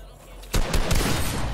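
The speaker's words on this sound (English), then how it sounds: "shots are being traded" Gunfire traded in a Fortnite match: after a quiet moment, a burst of rapid, loud shots erupts and keeps going, closely spaced and overlapping, with shouting voices mixed in.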